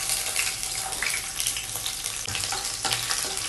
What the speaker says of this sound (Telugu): గార్లిక్ యాడ్ చేసిన తర్వాత కొంచెం ఫ్రై చేసుకోవాలండి లైట్గా.